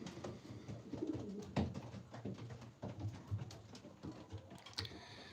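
Racing pigeons coo in a hobby loft holding about forty birds, a soft, repeated low cooing from several birds at close range, with faint rustling and small knocks mixed in.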